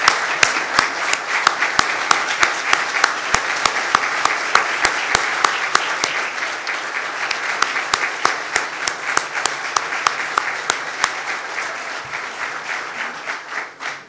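Sustained audience applause at a state park announcement, dense clapping from a crowd holding steady and loud for the whole stretch before thinning slightly near the end.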